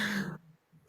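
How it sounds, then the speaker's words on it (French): A single short, gruff throat clearing, close and fairly loud, followed by near silence. "Tiens, je vais tousser"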